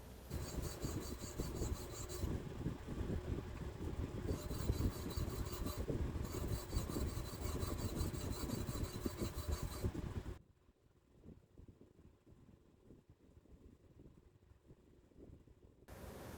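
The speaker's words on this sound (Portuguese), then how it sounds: "Primeiro eu vou fazer com lima e depois com lixa eu vou dar acabamento" Hand file rasping a steel punch tip, loud steady back-and-forth strokes close up for about ten seconds, then quieter scraping and handling noises.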